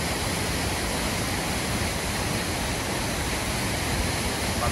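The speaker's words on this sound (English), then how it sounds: "the Rio Alcomayo waterfalls near Aguas Calientes." The Rio Alcomayo waterfall near Aguas Calientes roars as a steady, dense broadband rush of falling water, loud and continuous throughout with no talk.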